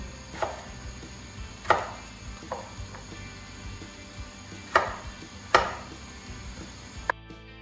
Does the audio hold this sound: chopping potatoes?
yes